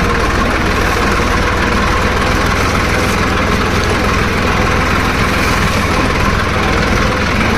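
A tractor engine idles steadily with a loud, continuous low rumble and fine rhythmic chugging, close by, with no talk.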